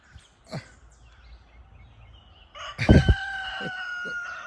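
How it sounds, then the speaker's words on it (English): Chickens on a backyard farm beside blueberry bushes, with a rooster crowing loudly near the end after soft scattered clucks and calls earlier, close by and outdoors. "A chicken just jumped up and got him a blueberry."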